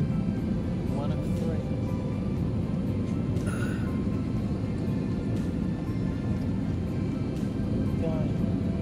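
A passenger airliner landing, heard from inside the cabin as a loud, steady broadband rumble of engines and airflow that persists throughout with little variation.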